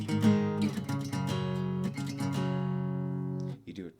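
An acoustic guitar plays a rhythm part, with steady repeated chord strokes that ring out clearly and close, with no voice over them, before a brief scrape at the end.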